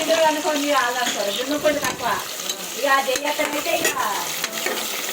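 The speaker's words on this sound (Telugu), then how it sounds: "ఇప్పుడు మంచిగా గరిట పెట్టి మిక్స్ చేస్తుంది మన అన్నమ్మ" A ladle stirs goat head curry in a sizzling pan, producing repeated scraping swishes and bubbling frying sounds up close, with a voice talking over it.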